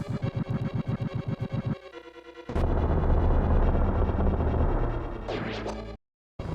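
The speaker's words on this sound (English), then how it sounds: "I'm gonna bomb everything." Bomb blasts in The Legend of Zelda, set in the Level Six skull dungeon, burst out loudly over a steady rhythmic game music bed, followed by a sustained roaring rumble that drops out briefly near the end.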